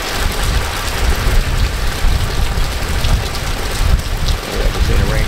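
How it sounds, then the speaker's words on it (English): Steady, heavy rain falls close by, with low rumbles of thunder now and then under the constant hiss of the downpour. "Much needed rain and a little thunder once in a while, and a nice cool breeze."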